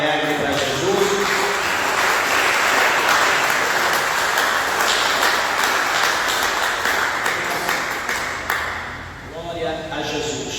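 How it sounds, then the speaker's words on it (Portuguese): A church congregation applauds warmly and steadily in a big room, the dense crowd clapping holding for about nine seconds before thinning out. Voices can be heard under and after the applause. "dê uma salva de palmas bem alegre para Jesus."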